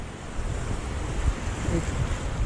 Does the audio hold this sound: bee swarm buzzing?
no